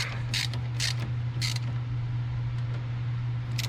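A bolt snugged down with a ratchet during a 2.5-inch leveling kit install on a 2011 Suburban: three quick bursts of clicking ratchet strokes, then faint ticks over a steady low hum.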